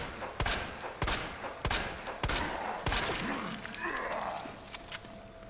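Rapid repeated gunshots from held-down fire in Resident Evil 2, a steady string of sharp cracks about every half second, loud and close, with a faint voice and game ambience underneath.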